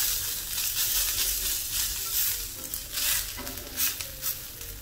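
Breakfast potato patties fry in a pan with a soft, steady sizzle close by, broken by a few light scrapes and taps, with no voices.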